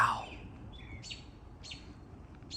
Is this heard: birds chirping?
yes